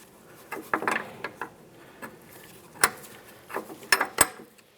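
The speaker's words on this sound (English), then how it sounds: "We'll use our 13mm wrench, tighten this down till it bottoms out" A 13mm wrench tightens a rear brake flex hose fitting on a 2009-2019 Ford Flex, producing scattered close metallic clicks and ratchety clinks with sharp taps and brief scraping in between, irregular and fairly quiet.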